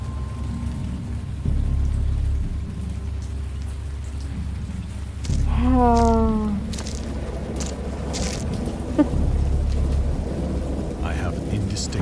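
A great storm of steady, hissing rain with low rumbles of thunder rolling underneath. A voice briefly exclaims once partway through.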